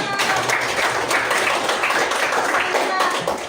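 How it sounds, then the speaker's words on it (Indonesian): Students in a classroom clap together in a steady, close burst of applause, with children's voices mixed in throughout. "Oke, bagus juga, tepuk tangan dong."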